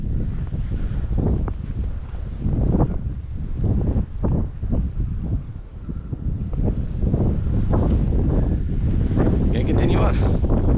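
Strong wind gusting across a snowy trail during a first snow storm, buffeting the microphone in loud, rough waves that rise and fall throughout.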